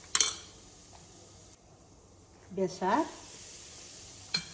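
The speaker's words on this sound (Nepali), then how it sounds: "यो जिरा धनियाँ पाउडर फेरि अलिकति भुटुनमा हाल्छु" Cumin and coriander powder sizzle in hot mustard oil in a pan for a Nepali tempering, with fenugreek already fried dark. The hiss is faint and steady, with a short burst at the start and a voice speaking briefly midway.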